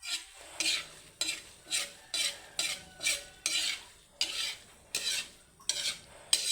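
Fried rice is stirred and tossed in a pan with a metal utensil. Rhythmic scraping strokes come about twice a second over a soft sizzle, close and clear, with no voices.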